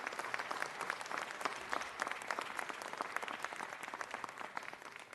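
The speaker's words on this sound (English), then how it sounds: "Let's give a round of applause." Sustained round of applause from the audience at a Los Angeles city council meeting marking Sri Lankan Day, dense even clapping held steadily throughout without voices.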